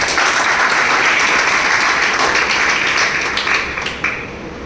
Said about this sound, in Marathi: त्या विद्यार्थ्यांसाठी जोरदार टाळ्या